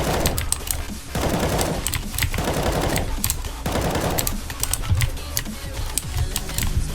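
Rapid automatic gunfire in the video game CS:GO, dense rattling bursts repeating in quick succession with sharp individual shot transients, loud and close throughout with no talking.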